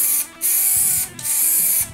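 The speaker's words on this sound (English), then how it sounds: "I sealed the ink with a few coats of spray lacquer" Two long hissing bursts of an aerosol spray can applying lacquer to a guitar pedal enclosure, each lasting most of a second, separated by a brief pause; close and fairly loud.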